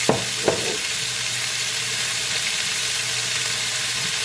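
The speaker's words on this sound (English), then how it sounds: "You want to make sure that you stir this" Beef for pepper steak, seasoned with salt, pepper, soy and Worcestershire, browning in a pan: steady close sizzling hiss, with a couple of sharp scraping stir clicks at the start, no talking.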